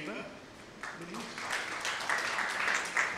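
Applause starts up at a procurement panel event as a guest is welcomed to the stage, building from a quiet start into moderate clapping across the room, with some voice-like sound in the opening moments.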